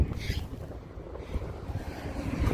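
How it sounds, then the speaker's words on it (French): Wind buffets an outdoor microphone during a walk around Saint-Quentin, giving a steady low rumble with gusty swells and no clear speech. "Il y a du vent."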